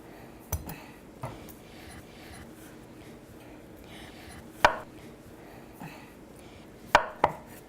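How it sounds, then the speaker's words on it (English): A knife cuts through a washed potato on a board in a home kitchen, giving a few sharp, separate chops spread out over a quiet background with a short gap between strokes. "I'm going to cut this potato that I have washed in half, and then I'm going to cut it in half again"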